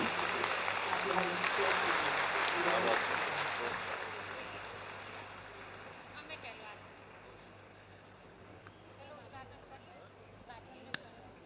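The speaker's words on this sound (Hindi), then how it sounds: "You can clap loudly." An audience at an inaugural event claps loudly, dense applause that swells for a few seconds then thins out to scattered claps, with faint voices beneath.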